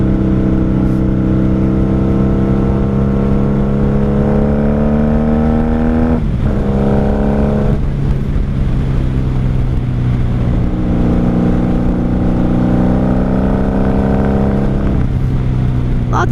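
A 1995 Honda Magna V45 VF750C custom motorcycle ridden at night, its engine loud and close, with revs rising through the gears, brief drops at shifts, and wind rush throughout.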